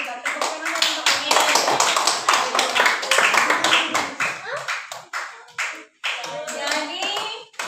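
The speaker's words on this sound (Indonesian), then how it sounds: "Tepuk tangan untuk ini." Classroom audience clapping for a group's answer: a busy, close patter of many hands, steady at first and then breaking into uneven bursts before it stops, with children's voices mixed in.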